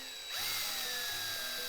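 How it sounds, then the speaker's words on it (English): Power drill boring into a gemstone for a light-up gem Christmas tree craft, a steady high-pitched whine that starts abruptly a third of a second in and holds loud and close, with a faint low hum beneath. "Now, when I'm drilling"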